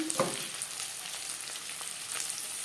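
Onions sizzle and crackle in hot refined oil as they go into the pan, a steady close frying hiss with a few sharp pops at the start and no talking.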